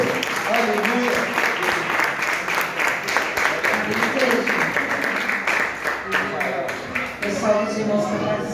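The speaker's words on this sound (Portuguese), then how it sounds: "Vamos receber a serva do Senhor com uma forte salva de palmas para Jesus." A church congregation claps in a dense, continuous wash of applause, with voices and faint singing rising through it across the room.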